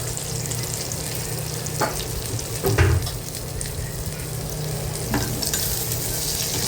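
Bitter gourd with spices and asafoetida is sautéed in a pan for a Maharashtrian karela bhaji. A steady close sizzle continues throughout, with a few louder scrapes and clinks as a spoon stirs, and no talking.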